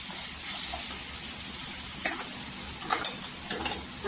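Half a spoon of turmeric powder frying in hot oil in a pan for Mumbai-style vada pav, a steady sizzle with a few spoon scrapes as it is stirred, close and continuous.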